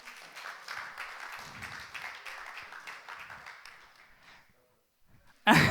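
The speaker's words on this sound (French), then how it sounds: "on peut applaudir Luc aussi" A congregation at a Sunday church service gives faint, scattered applause that fades away into near silence, followed by a sudden loud noise at the very end.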